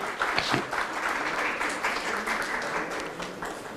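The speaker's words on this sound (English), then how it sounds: "Big round of applause, please." An audience at an HR summit gives a speaker a round of applause, with a steady wash of many hands clapping at moderate volume for several seconds.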